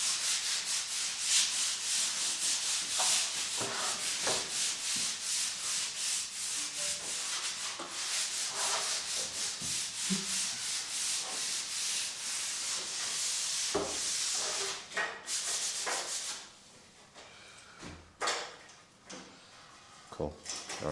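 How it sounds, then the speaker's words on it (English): A plastering trowel sweeps across fresh plaster to flatten ridges, giving repeated rhythmic scraping rubs close by, fading near the end, with occasional light knocks and indistinct talk in the background. "you're teaching me to flatten with the trowel instead of just using the speed scale"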